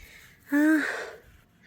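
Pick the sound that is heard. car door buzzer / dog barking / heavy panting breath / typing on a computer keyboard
heavy panting breath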